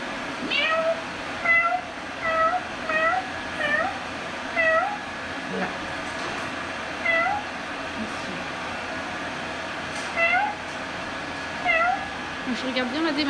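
A cat meows repeatedly in short rising cries at a steady pace during a westie grooming session, over constant background noise.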